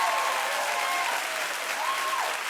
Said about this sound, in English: Clap if now you know better.